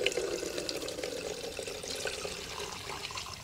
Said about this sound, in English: I have even amounts of gasoline here that I'm going to pour up into the top here, and then this will flow through the fuel filter due to gravity